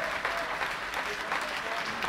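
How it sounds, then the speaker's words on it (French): A large union crowd applauds and cheers for the Force Ouvrière delegates, a continuous dense patter of clapping heard from a little distance, with indistinct voices mixed in. "Acclamation pour Force ouvrière et colère contre Bernard Thibault et la CGT"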